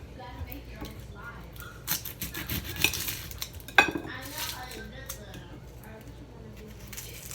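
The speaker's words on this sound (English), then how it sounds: "First, I'm going to start by cutting my onions so it can be a seasoning for the steaks." A knife chops through onions on a cutting board, a quick run of sharp clicky taps with one louder knock, then quieter handling noise afterward, close and fairly soft.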